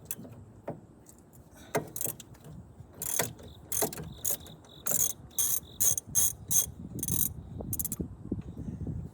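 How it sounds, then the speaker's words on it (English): A hand ratchet spins a nut off a ball joint on a 2007 Jeep Liberty, giving a series of short clicking bursts in an uneven rhythm, close and fairly quiet, with pauses between strokes. "And spin it off with just a ratchet."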